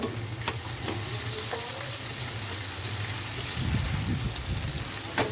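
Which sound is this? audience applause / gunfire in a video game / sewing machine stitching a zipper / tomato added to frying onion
tomato added to frying onion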